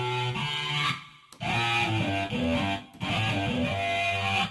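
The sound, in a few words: distorted vocal sample as electric guitar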